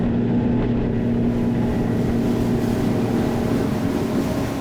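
A boat runs on Honda BF350 outboard engines holding near-constant RPM, producing a steady, close, droning hum mixed with rushing wind and water noise.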